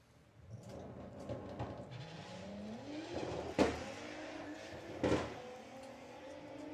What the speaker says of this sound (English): Okay, so Adrian Solly away first.